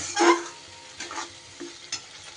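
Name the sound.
stirring and frying spices with salt and sugar in a pan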